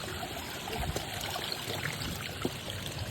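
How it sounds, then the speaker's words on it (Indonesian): Water trickles and flows over rocks along the stony hiking trail up to Kawah Ratu crater on Mount Salak, making a steady, continuous rushing wash close by with no voices. "di jalur batu yang dialiri oleh air"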